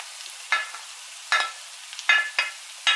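Onion, leek and chopped crab sticks frying in a pan, heard as a faint background hiss broken by five short bright stirring or sizzling bursts spaced unevenly, close by.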